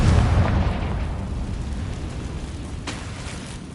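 Spell explosions from Bombarda and Confringo in the Hogwarts Legacy video game: a loud, deep boom bursts at the start and rumbles away over several seconds, with a second sharper burst near the end.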